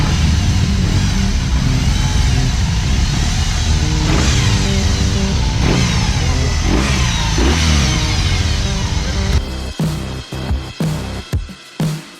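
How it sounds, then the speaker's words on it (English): A BMW R18 motorcycle's big boxer engine runs loud and close, rising and falling through several revs, then ends with a series of short, sharp throttle blips separated by brief drops. "I'm gonna ride a BMW R18 motorcycle for the first time ever."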